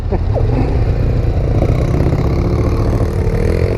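A motorcycle engine, a Honda CB500 or a Suzuki Bandit 600, runs loud and close at a steady rumble for a few seconds, with no revving surges and no talk.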